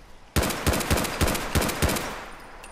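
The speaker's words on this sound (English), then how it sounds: "let's go ahead and fire this bad boy" A modded 7.62 Mega Pistol in Fallout 4, a handmade rifle fitted with a 10mm pistol barrel, fires about six loud, sharp shots in quick, even succession, followed by a short fading tail.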